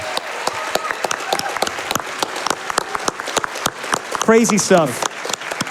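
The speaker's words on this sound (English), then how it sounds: "a round of applause" Audience applause at a speedrunning charity event, sharp and dense, while someone speaks briefly over it and a voice rises near the end.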